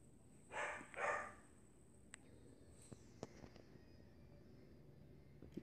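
A dog barks twice in quick succession, fairly faint and somewhat distant, followed by a quiet room with a few small clicks and taps.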